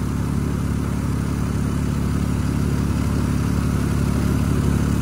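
A Toyota Camry with a 3.0 V6 idles under the hood while its AC compressor runs and draws in refrigerant, a loud steady engine drone with a rhythmic mechanical clatter, close up and without speech.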